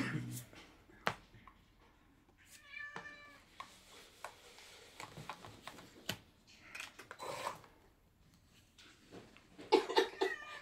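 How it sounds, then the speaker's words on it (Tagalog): A cat meows softly a few times in a quiet indoor room, with brief tapping and clicking sounds and short bursts of nearby human voices scattered through. "Commercial po. May pusa."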